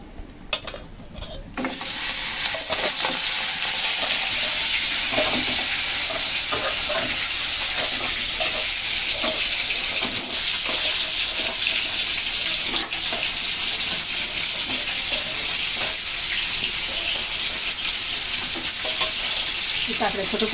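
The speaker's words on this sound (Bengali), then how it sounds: "আমি এখন এই কাঁকড়াগুলো ভেজে নেব।" Crabs frying in hot oil in a pan, a loud, continuous sizzle that starts abruptly after a short quiet moment and crackles steadily throughout, with occasional stirring clinks.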